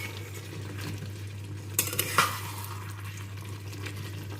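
Fried chicken pakoras are stirred into chili gravy in a pan, giving soft scraping and gentle sizzling with a few brief clinks of a spoon against the metal over a steady background hum.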